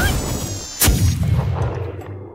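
A magically fired cannon in an anime booms once, a sharp loud blast with a ringing metallic tone that decays into a rumbling tail.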